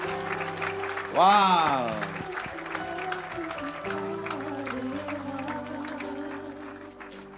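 A church congregation at a service in Evry breaks into applause and cheering, swelling suddenly then settling into a steady crowd bed while a voice exclaims and keeps talking over it.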